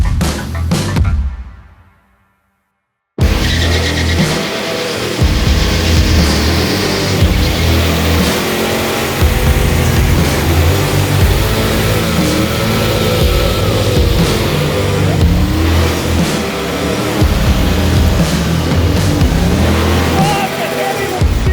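A 1988 Mustang GT Fox body with a 5.0 V8 and five-speed manual roars loudly and continuously, revving hard during a tire-smoking burnout after a brief fade and a moment of silence.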